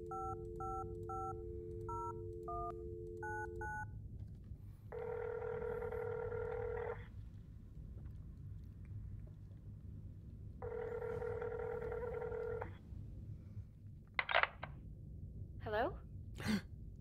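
Payphone keypad tones sound in the video game Fear the Spotlight as a number is dialed, a rapid sequence of short beeps followed by two longer ringing tones, with a throat clear and faint voice near the end.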